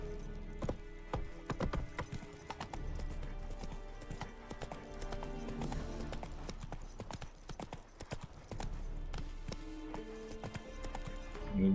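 Hooves of the horse Roach in The Witcher 3, a steady clip-clop gait of sharp repeated hoof strikes running throughout over a low background, fairly close, no talking.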